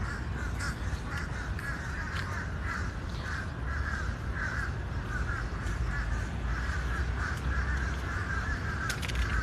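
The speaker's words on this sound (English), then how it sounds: "The birds have a lot to say today." Crows keep cawing outdoors in Savannah, Georgia, during a morning walk, a long series of harsh, regular calls at mid distance, with a few sharper high sounds over steady outdoor background noise.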